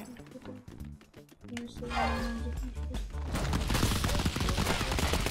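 Rapid bursts of gunfire from The Crackpet Show video game, with a weapon firing in eight directions at once, building into dense, loud continuous shooting over game music and effects.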